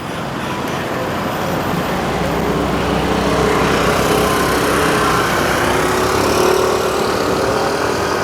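An Austhraa Rifle T9 electric cycle labors up a steep incline road near a beach on throttle alone, with a steady, close motor drone mixed with continuous road and wind noise and no pauses.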